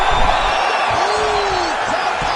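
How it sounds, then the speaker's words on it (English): An arena crowd in a UFC video game roars as a fighter escapes a submission hold, a steady, loud wash of cheering that fills the whole moment, with a commentator's voice over it. "crowd pops as he gets out again"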